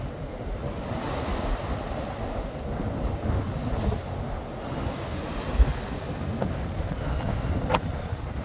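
Choppy sea waves at the Isle of Man ferry terminal: a steady rush of surf mixed with wind noise on the microphone, continuous and moderately loud, with a faint knock or two and no talking.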